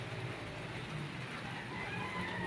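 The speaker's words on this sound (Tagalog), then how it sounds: "kasi nga umaambon na" A light drizzle falls outdoors near garden plants, a soft, steady hiss of rain that stays even throughout with no talking.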